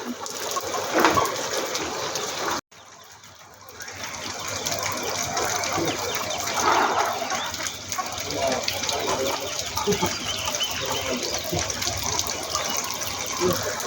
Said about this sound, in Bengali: ঝর্ণার ব্যবস্থা করা হয়েছে গরম থেকে মোরগগুলাকে বাঁচার জন্য